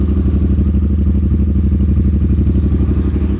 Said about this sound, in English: this is what this bike should sound like